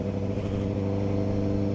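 Steady road traffic on a busy Sunday, heard from a Honda Fireblade motorcycle, with a continuous close engine drone and rumble that holds evenly without a break.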